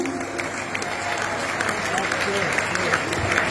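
A crowd at a live outdoor concert claps steadily and loudly for a song, with voices mixed into the applause.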